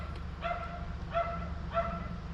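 A dog barks three times in an even, spaced rhythm. The barks are fairly faint and sound slightly distant over a low, steady hum.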